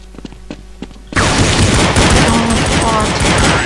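Rapid, dense gunfire in Counter-Strike bursts in suddenly after a second of quieter clicks, a loud continuous fusillade of shots with game-like effects.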